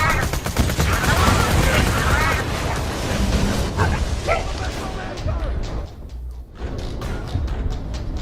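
Enemies fire guns in the Borderlands 2 video game: a steady stream of sharp shots crackles close by, thinning briefly near the end before resuming.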